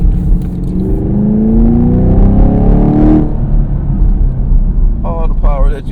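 A Chevrolet Camaro LT1 with a naturally aspirated engine, heard from inside while driving: a steady low engine drone rising in pitch as it accelerates, then easing off, with a voice briefly at the end.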